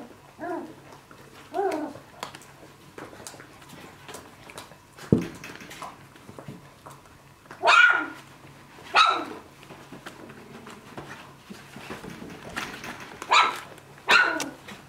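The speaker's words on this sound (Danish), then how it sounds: "Og så kan det smitte sig hele kuldet gør på en gang." A litter of puppies barking and yipping, several sharp high barks in irregular bursts, some overlapping as the whole litter joins in, close by, with faint background murmur between calls.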